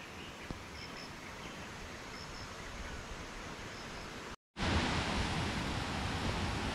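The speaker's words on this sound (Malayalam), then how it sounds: "ആ വെള്ളച്ചാട്ടം ഇവിടെ കുറച്ചുകൂടെ ശക്തിയായിട്ടുണ്ട്" A small forest waterfall on a stream in rainy jungle, a steady close rush of falling water that cuts out for a moment and then returns slightly louder.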